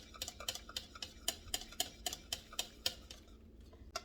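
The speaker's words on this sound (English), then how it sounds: "I'm gonna whisk that in." Whisking muffin ingredients into a mixture in a bowl: a quick, fairly even run of light metallic ticks and clicks, about three a second, close and quiet, with no talking over it.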